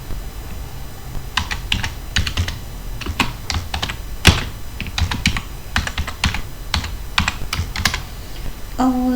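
Code is typed on a computer keyboard in an irregular run of crisp key clicks and occasional heavier strikes, close and clear with no voices, ending in a brief tone.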